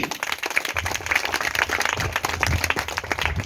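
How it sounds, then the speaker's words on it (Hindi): An audience claps loudly for Priya ji at a DXN meeting, a lively burst of many hands with some rhythmic clapping and low rumbling underneath. "तो प्रिया जी के लिए जोरदार ताली होना चाहिए।"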